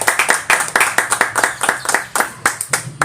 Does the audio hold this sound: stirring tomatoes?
no